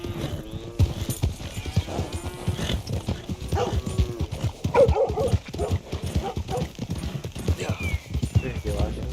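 Horse hooves clip-clop rhythmically while riding in Red Dead Redemption 2, close steady beats mixed with game dialogue and other voices talking over the hoofbeats.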